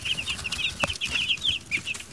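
Meat chickens in a growing flock cluck and chirp in quick, uneven bursts throughout, at moderate volume and fairly close, with no talking.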